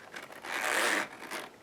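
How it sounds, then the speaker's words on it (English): Zip-around A6 Techo cover being zipped shut, a soft scratchy zipper run lasting over a second with a brief pause and a short final pull, close and quiet. "You can actually zip it up too."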